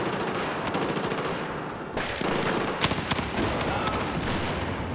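Rapid automatic gunfire from a Battlefield 4 firefight, dense repeated bursts with sharp cracks layered over a constant roar of battle, loud and close throughout.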